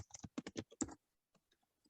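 Quick, close clicks of a computer keyboard, about a dozen keystrokes in a brisk burst, then a few scattered light taps in a quiet room.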